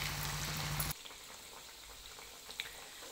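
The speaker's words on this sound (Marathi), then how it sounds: "अशा पद्धतीने वड्या त्याच्यात टाकायच्या आणि तळायच्या आणि गॅसची फ्लेम आहे ती लो करायची" Cabbage vadi fry in oil on a low flame; a brief louder burst gives way to a quiet, gentle bubbling with occasional small pops.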